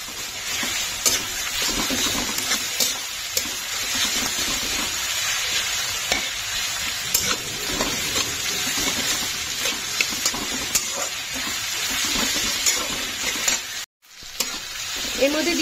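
Onion and ginger paste sautés in a pan with a little salt, turmeric and a few chilies for Bengali chicken kosa, a steady close sizzle broken by frequent spatula scrapes and stirs, with a short dropout near the end.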